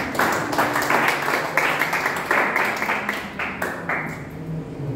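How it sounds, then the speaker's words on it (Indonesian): A church congregation claps in praise during a sermon, a full burst of applause that rises and falls in waves, with a faint voice underneath. "Beri tepuk tangan bagi Tuhan."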